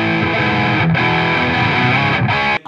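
A guitar amplifier speaker picked up by a microphone placed farther out from the cone plays loud, fuzzy distorted chords with a fuller, bassier tone, two quick gaps between strums before it cuts off.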